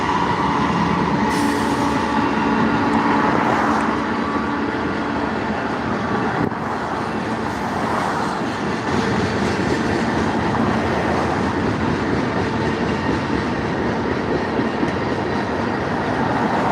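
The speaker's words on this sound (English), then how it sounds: "here comes that second train" A train passing close by in Dalton, Georgia, a loud sustained rumble and rattle of railcars with clattering wheels and occasional squeals, continuous for the whole stretch without talk.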